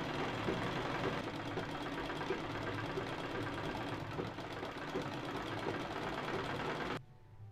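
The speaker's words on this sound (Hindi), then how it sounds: "अब यहाँ से हम दाब सिलाई देते हुए चारों साइड से स्टिच करके प्लेन पीस को इसमें अटैच कर देंगे।" Sewing machine stitches all four sides of a plain fabric piece onto a designer sling bag pocket, running steadily and fairly close with a continuous mechanical whir, then stopping abruptly near the end.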